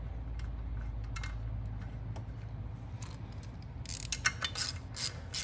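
A bolt being threaded by hand into the frame of a Honda Grom to mount rearsets, producing soft mechanical ticks and small metallic clicks close by, with sharper rattling near the end.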